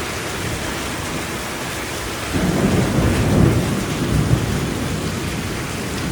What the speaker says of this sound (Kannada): ಇಷ್ಟು ಗಾಳಿ, ಇಷ್ಟು ಮಳೆ.